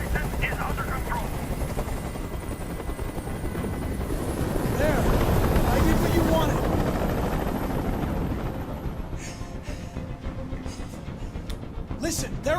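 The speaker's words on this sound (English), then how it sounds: "Tell that helicopter to get out of here." A helicopter hovers overhead in the video game Detroit: Become Human, its loud, steady rotor roar filling the scene while someone talks over it, then easing off near the end.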